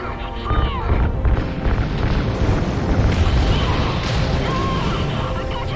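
Ignited RCS fuel lines explode in Call of Duty: Ghosts, a loud, sustained rumbling blast with crackling bursts. Voices and gunfire carry on over it.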